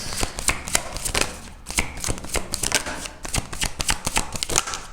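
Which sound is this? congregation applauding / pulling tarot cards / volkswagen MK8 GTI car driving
pulling tarot cards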